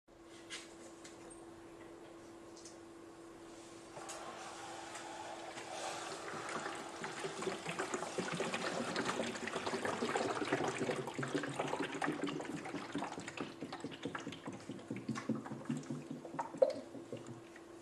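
Water sloshes and trickles inside a rotating Pythagorean theorem demonstration model, the flow building into a steady, fairly faint churning that runs for several seconds, with a soft knock near the end.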